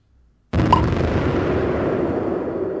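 A bomb explodes in a simple browser video game. The sudden loud boom follows silence and trails off into a long rumbling decay.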